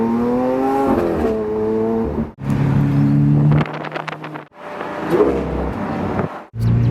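A Lamborghini Aventador V12 revving in repeated loud, close bursts, its pitch climbing and dropping between throttle blips with brief dips in between.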